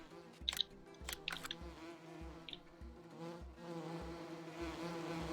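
Bees buzz steadily around bee boxes on a farm in Farming Simulator 19, a continuous droning hum under a regular low pulsing, with a few sharper clicks near the start.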